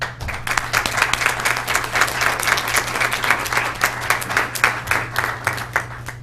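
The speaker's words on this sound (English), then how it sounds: "I thank you so much for your applause" A crowd applauds steadily, dense clapping at a constant loudness throughout, with a low steady hum underneath.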